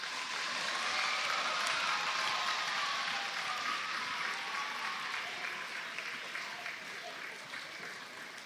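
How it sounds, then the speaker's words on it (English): A sustained round of applause from an audience at a school gift announcement event, steady dense clapping filling the whole stretch and slowly tapering toward the end. "Let's give her a round of applause."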